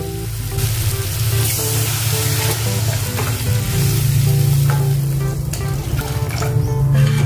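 Masala sizzles and fries steadily in hot oil for a stuffed raw tomato curry, a continuous loud crackling hiss with occasional stirring scrapes, close up and with no talking.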